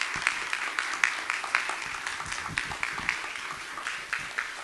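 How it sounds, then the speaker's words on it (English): Audience at an EHHD Showcase event applauding presenters, a steady spread of clapping from a moderate-sized crowd, evenly sustained throughout with no talking. "Can we give our presenters another round of applause?"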